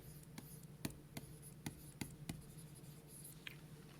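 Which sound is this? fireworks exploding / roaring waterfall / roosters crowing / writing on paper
writing on paper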